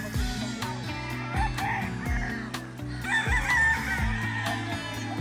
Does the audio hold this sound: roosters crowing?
yes